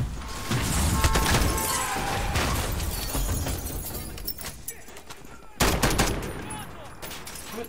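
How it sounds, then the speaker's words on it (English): Rapid automatic gunfire in the video game Call of Duty Modern Warfare, a loud dense burst that fades and then returns with a fresh crack of shots, with no speech over it. "Rapid fire!"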